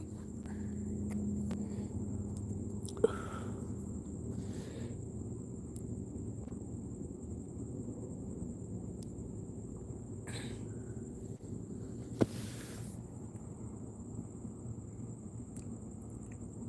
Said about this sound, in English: And the crickets listening to me.